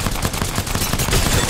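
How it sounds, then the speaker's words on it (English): Rapid automatic gunfire from a multiplayer video game, dense overlapping bursts of shots crackling continuously at close range with no voices. "I'm shooting them from the front."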